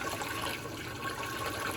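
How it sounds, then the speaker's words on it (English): A Bosch WFF1800 washing machine pumping and rinsing on a 90 cotton wash, giving a continuous watery gush and sloshing at steady moderate loudness, heard close and without talk. "it's clicking, it's doing it, it's pumping, rinsing."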